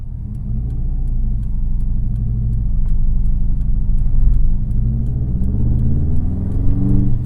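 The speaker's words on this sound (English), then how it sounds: "Ooh, I really like that exhaust note" A 2004 Subaru WRX with a turbocharged engine making about 260 all-wheel horsepower is driven with its loud, deep exhaust note rumbling steadily up close, the engine pitch rising and falling slightly as it pulls.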